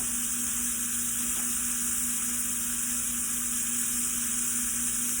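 Butter sizzling and frying in a hot skillet alongside a seared sirloin steak, a loud, steady hiss and crackle close by, continuous throughout with no talking.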